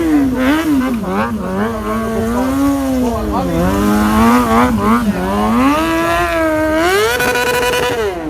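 A stunt motorcycle drifts with a loud, continuous engine whine that rises and falls in pitch as the throttle is worked, close and dominant throughout the clip.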